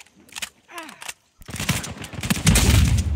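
AK rifle gunfire in Uncharted 4 multiplayer, rapid bursts of shots that grow denser and louder toward the end, following a few words from a man.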